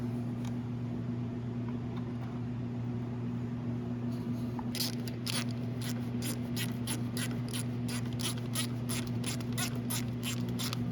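Ratchet clicks as starter bolts are tightened on a Yamaha Bruin 350 ATV, a run of quick, regular metallic clicks starting partway through over a steady low hum.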